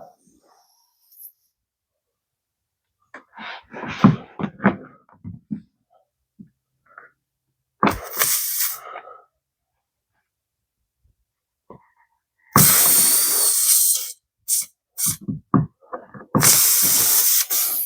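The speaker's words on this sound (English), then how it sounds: "I take my auger, put some lube" A tire plug auger coated in lube is worked in and out of a nail hole in a car tire, producing harsh, squeaky rasping bursts that come in separate close strokes, some short and one longer, with quiet gaps between.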